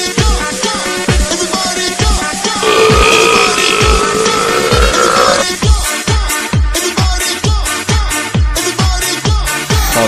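A loud dance track with repeated burps set over a thumping beat, the belches recurring in rhythm with the music.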